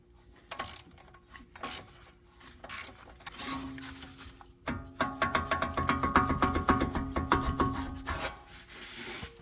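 A ratchet tightening coilover bolts on a BMW 335i N54 during a Bilstein coilover install, starting with a few separate clicking bursts and then settling into a long run of rapid, steady close-up ratcheting.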